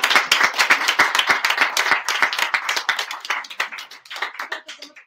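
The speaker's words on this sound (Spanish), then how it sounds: "un aplauso también para Juan" A small club audience applauds a reader at a Spanish-language literary gathering, a brisk burst of close, sharp hand claps that gradually thins out and slows toward the end.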